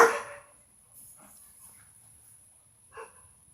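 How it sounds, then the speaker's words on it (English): A pet dog barks faintly in the background, a few short distant yips and woofs spaced out over quiet room tone, with no talking. "my dog's barking in the background"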